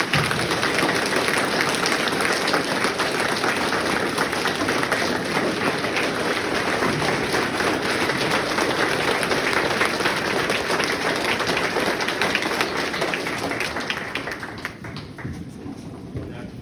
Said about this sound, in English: can we give a round of applause for our volunteer firefighters?